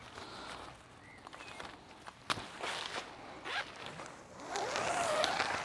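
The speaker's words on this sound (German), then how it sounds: "Guck mal, da hakt der Reißverschluss schon, da geht's schon los." A zipper on a Black Deer Archeos 2 tent being worked, snagging as it goes, with several short rasping pulls close by and louder, longer zipping toward the end, no voices.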